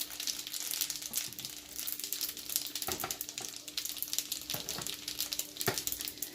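A tortilla wrap fries and crisps in a pan, a steady bubbling sizzle running throughout with a few sharper crackles and pops. No one speaks over it.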